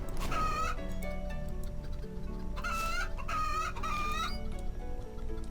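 Chickens cluck in the RuneScape 3 video game, with repeated short bursts of clucking and crowing-like calls over a steady background of game music and ambience.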